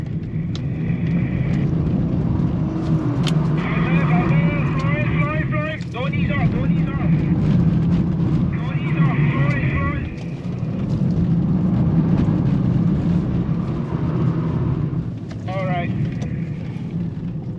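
BMW E39 engine held at full throttle during a drift, a loud continuous roar with tire and wind noise, punctuated by an instructor talking over it.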